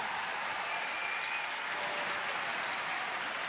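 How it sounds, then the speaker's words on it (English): A crowd at the 2015 World Men's Curling Championship final between Norway and Sweden keeps up loud, dense, continuous applause and cheering for Thomas Ulsrud, filling the whole stretch evenly without pause. "Crowd urging on Thomas Ulsrud."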